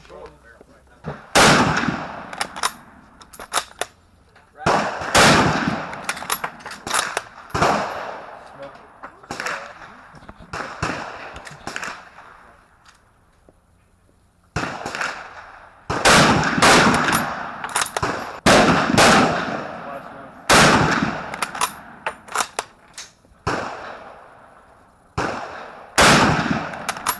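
A K98k Mauser rifle fires repeated loud, sharp shots outdoors, each crack trailing off, in irregular bursts spread across the stretch with pauses between.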